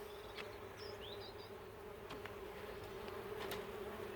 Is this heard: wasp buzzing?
yes